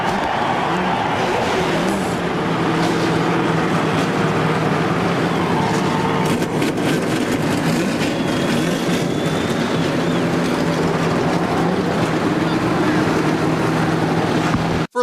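A field of 43 NASCAR stock cars pulling onto the track, a sustained, loud engine roar blended with wind noise, steady and broad throughout with no speech over it.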